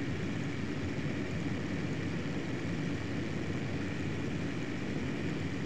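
A steady airplane engine drones in a video game, a constant broadband hum with no change in pitch or level, moderately quiet and alone without voices.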